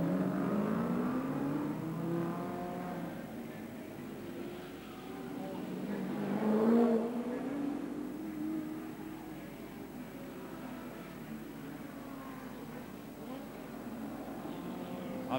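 Race cars on a circuit at the 1986 Nissan Mobil 500, engines droning steadily with a louder car passing near the middle, under continuous commentary.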